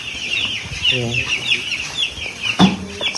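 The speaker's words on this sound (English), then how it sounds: "So this is going to be all of the chickens now which are in the chicken run at the moment." Poultry farm chickens in a chicken run cluck close by, with repeated clucks and a louder squawk near the end, while a person briefly speaks.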